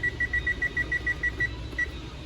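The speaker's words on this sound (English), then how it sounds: "set the timer 15 minutes" A kitchen timer alarm goes off while Peruvian green rice and chicken simmers on low heat, sounding as a fast, regular series of high electronic beeps that pauses briefly and then beeps again, loud and close.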